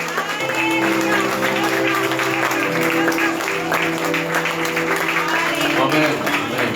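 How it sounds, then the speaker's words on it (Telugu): A church congregation at a Sunday night worship service claps and praises together, a steady wash of applause and voices running throughout, loud and close with singing or talk woven in. "Clap your hands and praise God."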